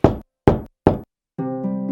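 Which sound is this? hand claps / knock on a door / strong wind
knock on a door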